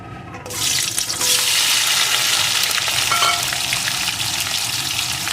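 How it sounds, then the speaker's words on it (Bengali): Hot oil erupts into a loud, crackling sizzle as Sundarban crabs drop in, then keeps frying in a steady, bubbling roar. "এখন এই তেলের ভিতরে কাঁকড়াগুলোকে দিয়ে দেবো"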